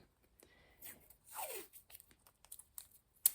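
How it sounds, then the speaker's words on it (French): Quick sticky tearing and peeling sounds of repositionable tape being pulled, a few short rips and crinkles spread over a few seconds, close and fairly quiet. "Et après, je mets du scotch repositionnable."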